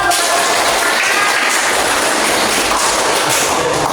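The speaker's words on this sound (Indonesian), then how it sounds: "Tepuk tangan dong." A classroom of students clapping their hands, a dense continuous patter of applause filling the room at fairly loud level, with no voices standing out.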